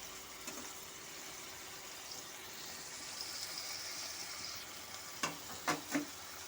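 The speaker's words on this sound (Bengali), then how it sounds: "চিংড়ি মাছটাকে উল্টে পাল্টে হালকা করে ভেজে নেব" Prawns frying lightly in oil, a faint, steady sizzle with a few soft clinks as they are turned near the end.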